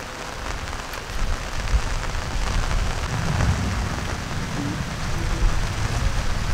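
Heavy rain pours steadily outdoors during handmade fish-trap work, a dense, even hiss of drops on surfaces that holds at the same strength throughout, with a possible low rumble of thunder underneath.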